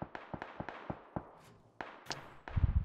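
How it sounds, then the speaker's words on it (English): Distant gunfire in a video game: a rapid series of sharp pops and cracks in irregular bursts, faint and far off, ending with a louder rumble. "there's a lot of fucking shooting"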